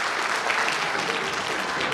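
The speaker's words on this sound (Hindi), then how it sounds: "एक बार शानदार ताली होनी चाहिए" Dense, steady clapping from a seminar audience in a large meeting hall, a continuous wash of many hands at even loudness with no pauses.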